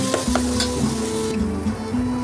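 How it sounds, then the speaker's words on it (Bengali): Close, loud sizzling of onions frying in hot oil, with a few scraping stirs of a utensil in the pan. "এবার পেঁয়াজটা দিয়ে এটাকে ভালো করে ভাজবো।"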